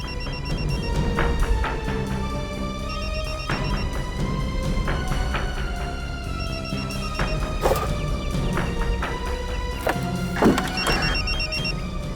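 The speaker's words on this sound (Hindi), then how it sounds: "सर, मोबाइल के बजने की आवाज आ रही है।" A mobile phone rings from inside a post box, its repeated electronic tones chiming in a steady rhythm for over ten seconds, moderately loud, with occasional dull knocks and no speech.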